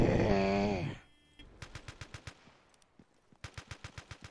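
Battlefield 2 gameplay gunfire: after a loud tonal game sound fades, rapid bursts of automatic fire crack out in quick rhythmic volleys, close and punchy, with a short pause between two strings of shots.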